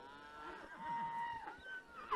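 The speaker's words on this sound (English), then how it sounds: "we got cows wanting to go everywhere" Cattle being moved up a hill trail on horseback, a cow giving a drawn-out, fairly faint moo at a distance, with another low call trailing after it.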